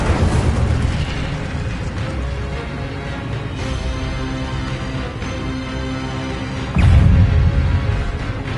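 An Incendio fire spell cast in a Hogwarts wizarding video game roars out as a loud, broad blast at the start, then a rumbling whoosh runs underneath before a second heavy burst flares near the end.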